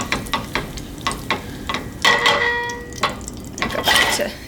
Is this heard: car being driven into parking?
no